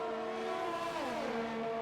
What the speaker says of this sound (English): You can hear the down shifting coming through that part of the track now.